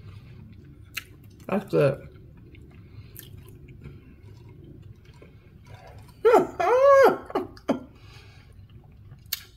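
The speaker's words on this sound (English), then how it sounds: "So I'm gonna take my first bite." Biting into and chewing a sloppy joe sandwich, soft close wet mouth sounds under a quiet background, with a person talking briefly in two short bursts.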